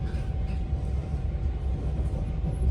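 A train pulling out of Hale station near Penzance, with a steady low rumble and rolling noise heard from on board, loud and continuous.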